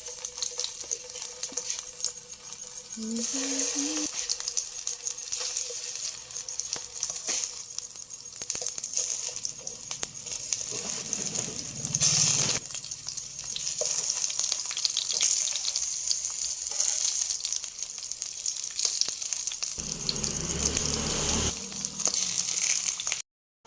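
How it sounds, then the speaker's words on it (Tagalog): Saba bananas frying in oil in a pan, a steady close hiss and sizzle throughout, broken by a few clinks of utensils and a brief splash of water. "Iprito ko muna yung saba, saging na saba."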